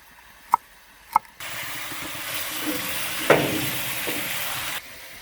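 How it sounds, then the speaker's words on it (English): Meat fries hard in hot fat over a gas flame in a woodshed, a loud steady sizzle that kicks in abruptly after two sharp clicks of the burner igniting, then cuts off near the end. "I don't want to stew it, I want to fry it in that fat."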